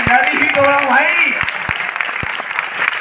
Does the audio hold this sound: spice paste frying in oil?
no